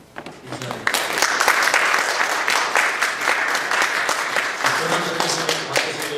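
A standing church congregation applauds a visiting professor, sharp claps in a roomy hall building quickly into sustained clapping, with a voice talking under it at the start and end.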